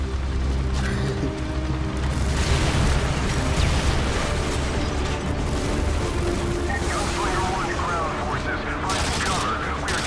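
Grenade blasts in the video game Modern Warfare 2, with dense rumbling explosions and gunfire running nonstop at high volume while voices shout over the din.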